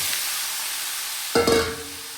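Pumpkin and onion sizzle softly in a pan, then a spatula stirs them with a brief scraping burst and a rise in frying hiss, heard close with no talking.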